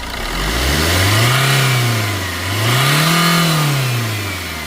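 A Tata Zest car engine is revved twice up close, each rise swelling to a loud roar before easing back toward idle.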